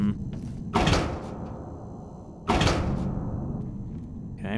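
Two doors open in the video game Ashes: Afterglow aboard a submarine, each a loud hissing slide with a heavy thunk, about two seconds apart, over a low droning background.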